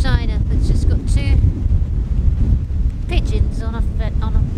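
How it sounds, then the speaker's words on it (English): Strong gusts of wind on a stormy beach buffet the microphone with loud, rumbling low roar throughout, while a person talks intermittently over it. "That's really nice, but it's so windy."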